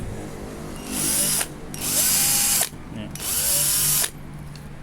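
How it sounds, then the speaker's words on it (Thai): A toy hand drill whirs in three bursts of a second or so each, fairly loud and close, with short pauses between them and a few words spoken around it. "สว่านมือ"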